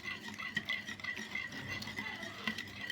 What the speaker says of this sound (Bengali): এখন এটাকে একটা হ্যান্ড উইস্ক দিয়ে আমি সুন্দর করে একটু ফেটে চিনিটা মিশিয়ে নিব।